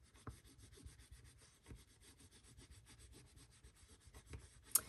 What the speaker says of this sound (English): go in with my bone folder and give it a second and just kind of burnish that